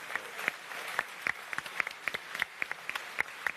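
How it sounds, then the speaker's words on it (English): A live expo audience applauds, steady scattered clapping from many hands at moderate distance, with sharper individual claps popping out irregularly over a continuous patter. "So please, round of applause, please. Show some appreciation."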